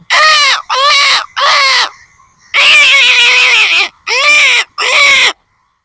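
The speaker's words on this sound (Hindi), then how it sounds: "आप सुन सकते हैं पूरे कौवा की चिलचिलाहट एकदम आ रही है" Loud, harsh crow caws ring out in quick bursts, a flock of birds overlapping close by in an agitated chorus.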